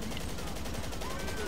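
Dense burst of police gunfire in a video game, a rapid continuous rattle of many shots packed together at steady volume, with voices faintly under it.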